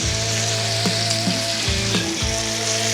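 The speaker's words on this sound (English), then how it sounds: "So we'll get that sear on both sides, then we'll turn this back down." Bear meat searing in a hot pan, a continuous loud sizzle with a few sharp scrapes as pieces are shifted, close up and without talk.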